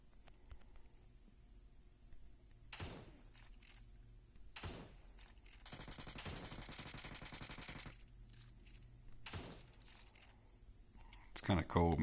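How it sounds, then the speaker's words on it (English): Gunfire in a video game: several sharp, loud shots spaced apart, then a dense stretch of rapid automatic fire in the middle, with faint voices in the background. "Where are they firing from?"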